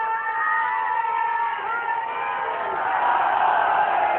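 A large crowd at a religious gathering shouts a slogan together in response, a loud, sustained mass of voices with cheers and whoops swelling toward the end.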